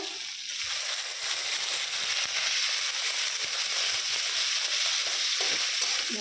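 Fish frying in a pan for fish bharta, a steady close sizzle with crackling and stirring running throughout, loud and even with no talk over it.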